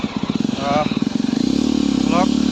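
A motorcycle climbing uphill on the Dong valley trail, its engine thumping in a rapid pulsing rhythm close by and loud, steadying as it pulls, with brief voices over it.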